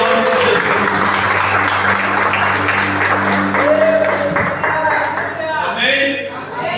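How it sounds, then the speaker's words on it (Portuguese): A congregation at a family church service applauds loudly and continuously, the clapping layered over a sustained musical drone and a few voices before it thins out near the end. "Só quem recebe essa palavra aplauda o Senhor bem alto"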